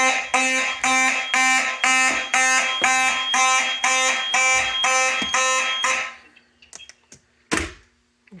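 Fire alarm system sounding during a test, a loud repeating horn pattern with steady pulses for about six seconds, then stopping, followed by a few faint clicks and one sharp thunk.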